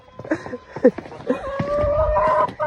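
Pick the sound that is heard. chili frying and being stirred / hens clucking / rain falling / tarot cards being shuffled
hens clucking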